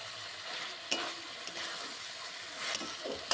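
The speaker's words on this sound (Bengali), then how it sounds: "এরপর ভালো করে আমি মিশিয়ে নিচ্ছি।" Chicken pieces coated in dark soy sauce are stirred in a hot pan for a chicken pasta, a steady sizzle broken by a few sharp scrapes of the spatula against the metal.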